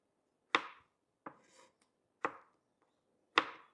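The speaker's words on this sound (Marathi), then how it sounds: "आपण आता ग्रेव्हीसाठी टमाटर कट करून घेऊ।" A knife chops through tomatoes on a cutting board, four distinct sharp strikes spaced unevenly, each with a short crunchy tail, close and clear with no talk.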